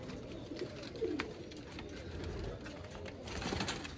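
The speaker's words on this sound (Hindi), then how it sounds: "देखने से पता चलता वाकई अच्छे कबूतर है।" Pigeons cooing softly in a breeding loft among other birds, a low continuous murmur of calls with faint bird sounds and background noise, no talk.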